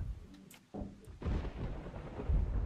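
In a survival video game, thunder rolls in with a low, heavy rumble that swells after a brief dip and stays loud and grumbling through the rest of the clip, with no talk over it.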